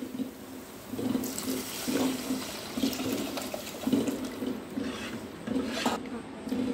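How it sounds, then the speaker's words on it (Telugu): Tomato rasam poured into a pan over lightly fried masala and turmeric, giving a continuous watery splashing and gurgling with a voice faintly underneath. "మసాలా లైట్గా ఫ్రై అయ్యాక ఇందులో టమాటా చారు వేసుకోవాలి"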